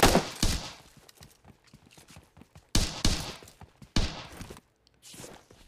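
Sharp, loud shots in PUBG Mobile Lite, likely sniper rifle fire, cracking out a few seconds apart, each one decaying quickly into quieter background game noise.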